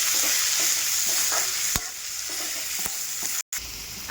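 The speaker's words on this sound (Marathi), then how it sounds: "आता टोमॅटो टाकून घेऊ. टोमॅटो बी मस्त असे परतायचे." Chopped tomatoes sautéing in a pan with curry leaves for a paneer curry, a loud hissing sizzle broken by a few sharp stirring scrapes and a brief dropout.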